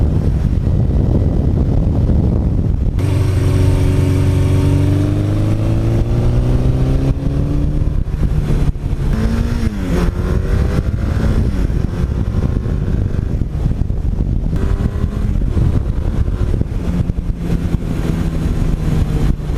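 A 1982 Suzuki GS1100E motorcycle engine pulls hard through the gears while riding, its deep exhaust tone rising and falling with each shift and throttle roll, loud and close over steady wind rush the whole way through.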